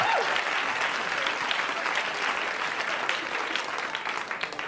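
A comedy club audience applauds a stand-up comedian, dense sustained clapping that fills the room at steady loudness and slowly tapers toward the end.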